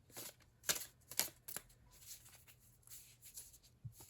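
Tarot cards are shuffled in quick riffling bursts, crisp papery snaps repeating at an uneven rhythm, close and quiet with no talking.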